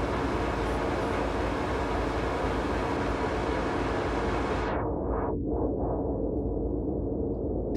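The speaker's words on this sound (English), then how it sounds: "So it's basically like white noise, but it's like different and more unique." Synthesized white noise shaped by a filter: a loud, steady broadband hiss that fills the whole range, then gets swept darker about two-thirds through, with the upper content cut away and a few wobbling filter sweeps at the end.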